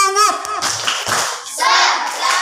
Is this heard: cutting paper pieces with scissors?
no